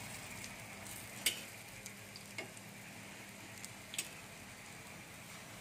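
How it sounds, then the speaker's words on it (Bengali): Cauliflower and khesari lentil fritters fry in a pan, giving a soft, steady sizzle with a few sharp pops and ticks scattered through it. "একটু লাল লাল করে ভাজতে হবে"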